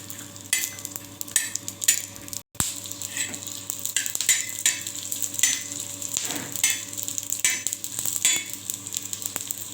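Spices such as coconut, poppy seeds, chillies and coriander dry-roasting with a little oil in a pan, giving steady close crackling sizzle and stirring scrapes that run continuously.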